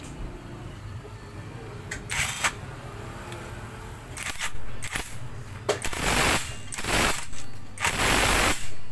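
Ratcheting and metallic clicks from tightening the primary-side part of a Raider 150 motorcycle engine during assembly, several short bursts of tool mechanism noise over a low steady background hum, close up.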